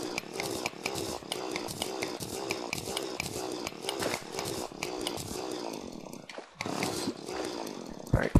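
A large drill in the Terraria video game whirs continuously with a rough buzzing grind that stays loud and steady throughout, dipping briefly near the end.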